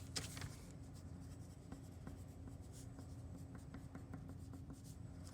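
Pen writing a label onto a paper skirt pattern, with short scratchy strokes and taps repeating steadily at close range over a low room hum, no voices.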